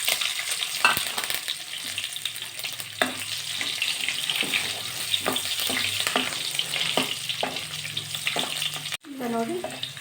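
Onion frying in hot oil with mustard seeds and curry leaves gives a steady close sizzle with repeated spoon scrapes and stirring knocks, then a brief clatter near the end.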